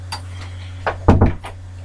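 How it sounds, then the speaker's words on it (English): A door is pushed shut indoors, a few soft knocks and shuffles followed by a solid close-up thud and rattle as it latches, over a steady electrical hum. "I'll shut this door"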